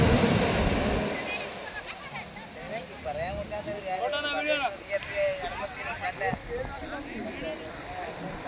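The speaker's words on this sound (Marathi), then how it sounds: "तिकडची लय मोठी लाट आहे" Big waves surge and break along the sea shore at the Kanyakumari sunset point, a steady rushing wash heard nearby beneath wind noise, with several people chatting over it.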